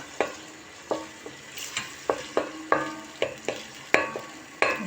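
Tomatoes sautéing in a pan, a close, steady sizzle broken by about a dozen regular sharp scrapes and clacks of a utensil stirring them, with no talk.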